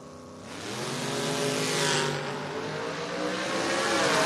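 Drag race cars, the Jack Fisk Camaro and the La Clam Monza, accelerating at a door wars event: a loud, steady engine roar building and swelling throughout, rising in pitch, with no talk.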